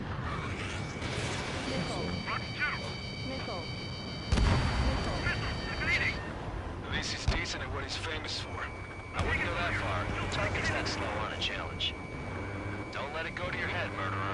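Missile launches and heavy explosions crackle and boom through an Ace Combat 7 aerial dogfight, with jet engine drone and bursts at intervals, under radio voices talking.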